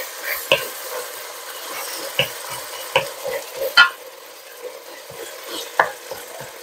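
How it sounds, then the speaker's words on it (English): Ground meat sizzles and crackles steadily in a pan for a low carb cheeseburger soup. Sharp utensil scrapes and clicks break in at irregular moments, and no one speaks. "Meat is cooking up nicely. It has a lot to say."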